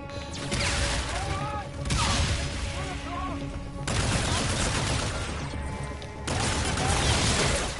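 Gunfire and explosions in the Call of Duty Infinite Warfare campaign, with repeated bursts of shots and booms in a dense, loud sequence, while voices talk over the action.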